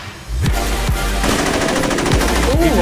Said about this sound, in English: Ooh, I tagged him with a couple bullets.